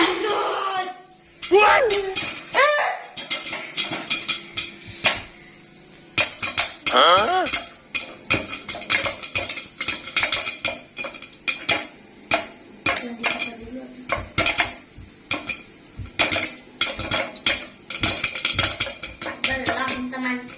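Corn pops in a pot, sharp irregular pops and clatter against the metal, mixed with voices and excited shouting.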